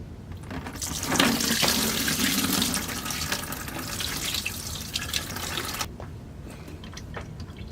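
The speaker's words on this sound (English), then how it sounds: "so I can have little to no leakage or spilling when I drain the radiator fluid" Radiator fluid from a KTM 200 XC-W dirt bike drains steadily into a bucket, a continuous close splashing and trickling pour that swells after the first second and stops abruptly near the end, leaving quiet.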